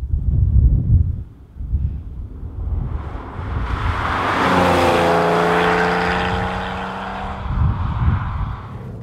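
Porsche 911 996 Carrera 4S driving, its engine note rising into a steady harmonic drone from mid-clip with wind buffeting around it, rough low rumble at the start and end.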